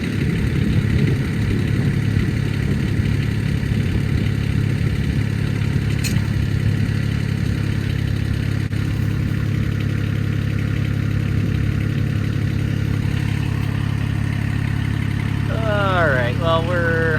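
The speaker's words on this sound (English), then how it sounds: "Tractor's just chugging away, doing its thing." A tractor in four-low first gear pulls steadily against a load, its engine chugging at a constant low rumble close by, with someone talking over it throughout.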